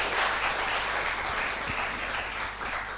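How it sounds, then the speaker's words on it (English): Applause at an academic conference on applied mathematics and statistics, a steady, dense patter of clapping from an audience, moderately loud and continuous with no talk. "Applause for her."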